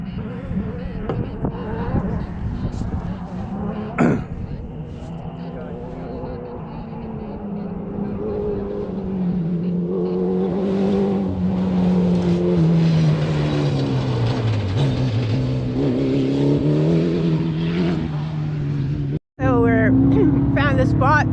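Race cars on a rally stage near Alice Springs, a loud engine roar building and sweeping past close by, pitch falling as it passes, with spectators talking over it.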